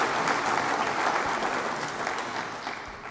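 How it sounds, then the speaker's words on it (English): Sustained audience applause at a conference morning session, a dense wash of many hands clapping that starts loud and slowly tapers toward the end, with no talking over it. "Another round of applause, actually, because that was just wonderful."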